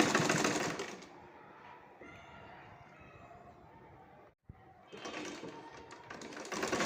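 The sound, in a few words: sewing machine stitching a ribbon sleeve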